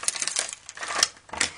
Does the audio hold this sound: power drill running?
no